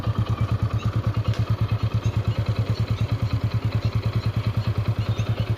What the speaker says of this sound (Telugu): మెయిన్గా ఇంజన్ సౌండ్ మెయిన్ ఇంపార్టెంట్